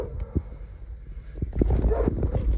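A small dog gives a few quick, low barks and a whimper nearby, mixed with rustling and handling noise, with no talk.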